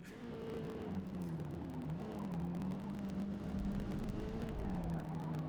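Sustained car engine drone from a Forza Motorsport race, a steady mid-revving note holding fairly constant and close with slight pitch wavering as the car runs continuously, no talk.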